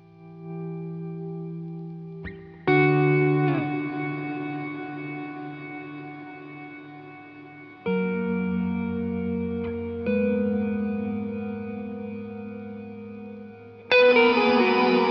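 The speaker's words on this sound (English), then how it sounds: "we'll start here with a hall sound, and just the dry feeding the verb, and I'll turn some octaves up" Sustained electric guitar chords through a Walrus Audio reverb pedal on a hall setting swell into a long reverb with shimmering octave-up tones, each new chord ringing out and slowly decaying.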